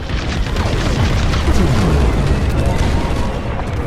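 A loud, dense, rumbling explosion roars continuously as a thermal system blows up in the Star Wars: Squadrons space combat game, with booming low-end debris noise filling the whole stretch.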